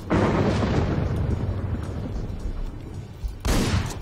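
Shotgun blasts from the game Hotline Miami 2: Wrong Number boom loud and close, a long roaring burst that fades, then a second sharp blast near the end, no voices.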